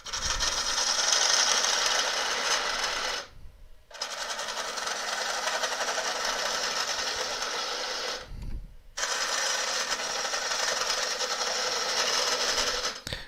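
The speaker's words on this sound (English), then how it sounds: "The tool's beginning to chatter a little bit on the lathe." Elm burr being turned on a wood lathe, with a continuous loud whirring scrape and tool chatter as the cut is made, broken by two short pauses before cutting resumes.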